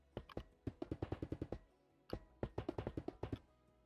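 Placing iron blocks in the Minecraft video game gives a run of short, sharp, clinking knocks in two quick bursts, each tap bright and metallic, loud and close with no talk over them.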